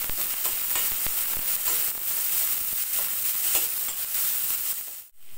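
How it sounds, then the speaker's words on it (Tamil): Onions sautéing in a pan as they turn golden for a cabbage and carrot poriyal, a steady bright sizzle with occasional stirring clicks, close and loud, dropping away abruptly near the end. "வெங்காயம் கொஞ்சம் பொன்னிறமாக வதங்கட்டும்."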